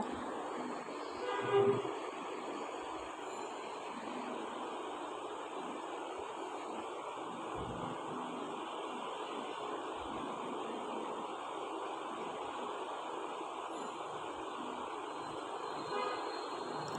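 Singara pastries deep-fry in hot oil with a steady, even sizzling hiss that holds at moderate volume throughout, with no talking.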